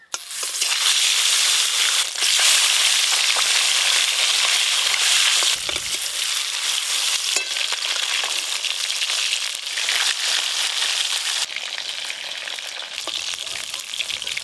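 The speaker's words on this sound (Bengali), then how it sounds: "এই মাছগুলো ভালো করে ভেজে নেব।" Fish fries in hot mustard oil in a pan, giving a loud, close, continuous sizzle and crackle that holds steady for the whole stretch, with small shifts as the pieces settle.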